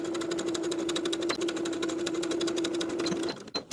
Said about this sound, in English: And sew that lining crotch curve with a 1/2 inch seam allowance from the bottom of the curve to where the fly stitches ended